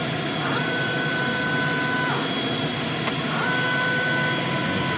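A Calca DTF printer runs its daily cleaning cycle, a steady mechanical whir with two sustained whining tones as the carriage or pump moves, close and continuous under a constant hum.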